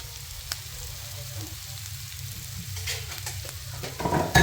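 Food sizzles and crackles in a hot wok with scraping stirs and a few sharp metallic taps, growing louder at the end.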